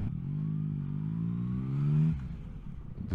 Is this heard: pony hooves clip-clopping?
no